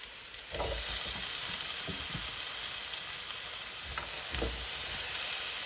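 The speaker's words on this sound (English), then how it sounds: "just let them kind of simmer a little bit" Yams simmer in a pan with a steady soft sizzle and hiss, close but fairly quiet, broken by a few low bumps and scrapes as the pieces are moved.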